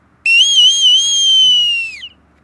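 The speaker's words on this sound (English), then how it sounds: "you would give the carry-on command or the warbling sound" A bosun's call sounds the warbling carry-on signal, one shrill high whistle held for about two seconds with a wavering, trilling pitch that bends down at the end. It is loud and close, alone against a quiet background.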